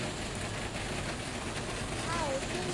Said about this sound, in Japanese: 今日は雨止まないですね。 ずっと雨です。